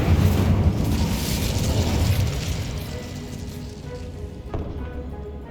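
A burst of magical fire from the Incendio spell in Hogwarts Legacy, a loud rumbling whoosh that slowly fades, with a sharp pop near the end.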